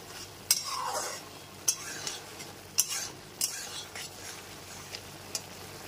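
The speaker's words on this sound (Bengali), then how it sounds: "সমস্ত কিছু দিয়ে মিশিয়ে নিলাম।" Spoon stirring Kashmiri chili powder into a ridge gourd mixture for jhinge posto, with several sharp scrapes and clinks against the pan at irregular intervals over a faint sizzle, close and fairly quiet.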